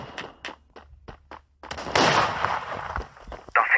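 A grenade blast in the Forward Assault shooter game arrives as a loud sustained burst midway, preceded by sharp gunshot cracks and followed by another loud impact near the end, with no talking.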